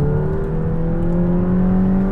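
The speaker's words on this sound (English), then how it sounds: "A lot of turbo noise." A 2020 McLaren GT turbo engine accelerates with a loud, smooth, rising drone and an audible turbo whir, heard from inside the car with no talking.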